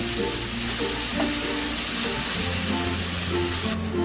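Green chili paste sizzles and fries in a pan while being stirred, a steady close crackling hiss with occasional scraping of the spoon, no voices.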